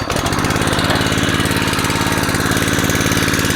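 A small petrol engine on a fire pump starts almost at once and runs loud and steady, its rapid even firing close up with no voices.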